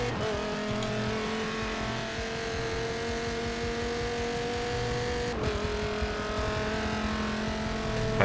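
A race car sets a pace lap around the Long Beach street circuit in Forza Motorsport 7, its engine droning steadily at high revs and briefly dipping as it shifts, running continuously close up.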